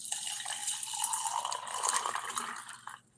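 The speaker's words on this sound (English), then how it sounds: "pour me a little bit of my tea, Tennessee" Tea poured into a cup, a steady splashing, gurgling stream lasting a few seconds up close before tapering off abruptly at the end.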